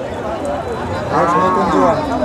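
A bony dairy cow gives a drawn-out moo at a busy cattle market in Bangladesh, rising in the second half over a constant crowd murmur and nearby talk.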